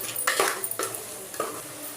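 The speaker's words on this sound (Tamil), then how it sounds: "இந்த மஞ்சள்தூள் கொஞ்சம் ஆட் பண்ணி அதையும் மிக்ஸ் பண்ணி விட்டுக்கலாம்." Chicken stirred with turmeric in a pan, a spoon scraping and clinking against the metal in a few distinct strokes, close and fairly clear, with no talk.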